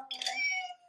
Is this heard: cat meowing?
yes